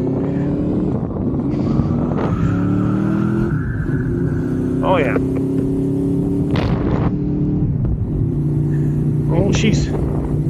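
A motorcycle fitted with aftermarket Chinese fairings and an air box idles steadily as it warms up before its first real ride, a close, continuous engine drone with occasional blips, while someone speaks briefly over it.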